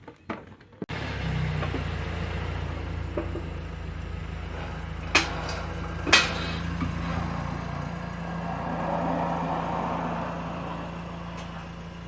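A Ford Escape sitting on ramps after an oil change starts with a short cranking burst, then settles into a steady low idle, moderately close, with no talking over it.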